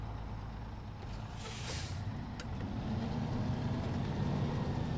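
Fleet Star heavy truck in SnowRunner with all-wheel drive engaged and a packed crane, its engine rumbling steadily and building slightly, with a brief air-brake-like hiss partway through.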